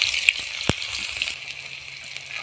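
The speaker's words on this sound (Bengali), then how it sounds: "এবার পেঁয়াজ কুচি দিয়ে দিচ্ছি" Chopped onions sizzle steadily in hot mustard oil with panch phoron, a soft continuous hiss and crackle, close and fairly quiet, with a sharp pop near the start.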